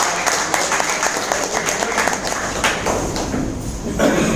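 Applause from an audience at a presentation, a dense patter of many hands clapping at steady volume for several seconds, with some voices mixed into the crowd noise.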